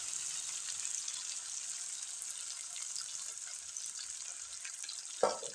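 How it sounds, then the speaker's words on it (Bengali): Ginger and garlic paste frying in a pan, a faint, steady high sizzle throughout with one short clatter near the end. "এখানে আমি আদা রসুনের পেস্ট ভালো করে দিয়ে দিয়েছি লাল লাল করে নিয়েছি"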